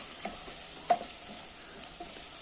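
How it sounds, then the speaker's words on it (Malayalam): Tomatoes sauté in an oily pan for chicken curry, giving a steady soft sizzle with a few faint scraping stirs and one brief knock, no voices. "അപ്പോൾ തക്കാളി ഒന്ന് നല്ലതുപോലെ ഒന്ന് വഴറ്റിയെടുക്കാം"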